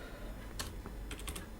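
Code being typed on a computer keyboard, a few quick clusters of light key clicks, close but quiet, with no talking.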